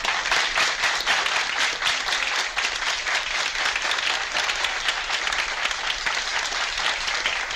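A large audience bursts into loud, sustained applause welcoming a singer, dense clapping filling the space evenly from start to finish with no pause.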